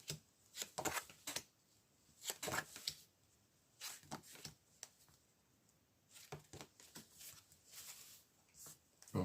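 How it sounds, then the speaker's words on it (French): Tarot cards shuffled and drawn at a reading table, a run of quick papery riffles and slaps coming in uneven bursts separated by short pauses, close and fairly quiet. "on peut même maintenant essayer de tirer des cartes sur le consultant"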